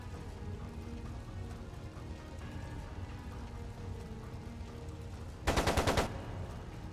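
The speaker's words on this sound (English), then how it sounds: "It sounded like a machine gun." Machine gun fire in the role-playing video game Trails of Cold Steel II, one short rapid burst of about half a second, loud over a low steady background, no talk.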